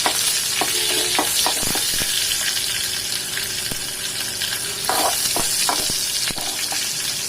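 Small onions sizzle and crackle steadily in a hot pan, with occasional scraping and stirring clicks over the continuous frying hiss.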